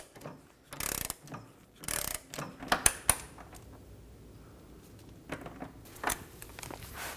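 A ratchet snugs down the rear shock absorber bolts on a 2014-2023 Ford Transit Connect, giving several quiet, close bursts of rapid clicking separated by short pauses.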